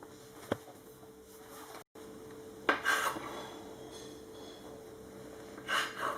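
A knife cuts through soft fekkas dough, a traditional Moroccan almond and dried-fruit biscuit dough, giving a few brief scraping and tapping strokes against a board, close and fairly quiet, with a sharp click near the start and rustling later.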